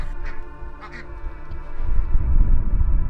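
A few short nasal duck quacks ring out early in a rural yard with ducklings and chickens, then fade into a louder rumbling, scuffling background noise.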